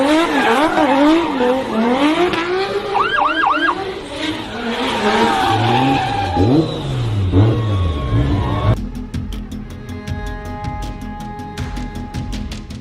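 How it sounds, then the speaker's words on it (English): A driver in a stolen Porsche drifts around a van during a police chase, the car revving hard with long wavering tire squeals, then the sound cuts to a quieter, rhythmic ticking scene. "This driver is taunting the police by drifting around a van."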